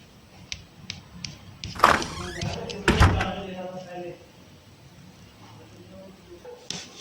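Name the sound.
door being opened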